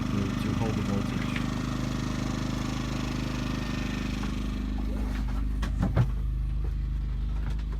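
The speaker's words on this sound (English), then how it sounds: "the generator is now on eco mode. So it's basically on demand. It'll throttle up on demand to hold the voltage." A Champion 2000W generator runs in eco mode aboard a Beneteau sailboat, giving a steady low hum with a faint mechanical whine, close and constant, while someone talks over it.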